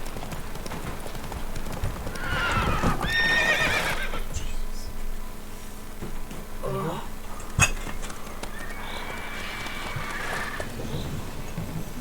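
Horse hooves clop steadily on hard ground in the video game Witcher 3, a mid-distance rhythmic gait joined by a neigh and faint clinking, with brief distant voices.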